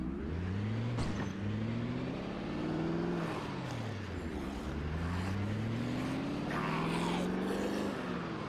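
A car drives in the zombie survival game Project Zomboid. Its engine hums steadily, with pitch rising and falling in repeated sweeps as it accelerates and eases off, plus a few sharp knocks over the top.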